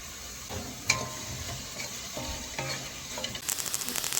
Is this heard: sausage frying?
yes